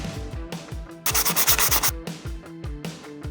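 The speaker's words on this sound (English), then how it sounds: "Here I'm going to start with 180 grit sandpaper" Rhythmic back-and-forth rubbing of 180-grit sandpaper on a 3D-printed helmet prop, close up, with a brief burst of faster, harsher scrubbing in the middle.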